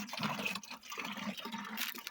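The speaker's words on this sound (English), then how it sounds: "gonna fill it with water the rest of the way" Water pouring into a container to dilute a fertilizer mix at a 2:1 water-to-fertilizer ratio, a steady close filling splash with a low gurgling rise throughout, no talking.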